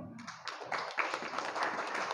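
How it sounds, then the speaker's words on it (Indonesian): An audience at a cooperative gathering applauds for a speaker, a dense, steady wash of clapping held at moderate loudness after a brief quiet start. "tepuk tangan"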